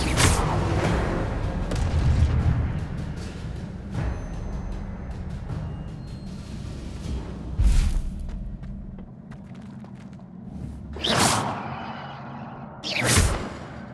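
Incendio fire spell cast in Hogwarts Legacy, heard as several loud booming whooshes and bursts amid a rumbling game battle, with no talk.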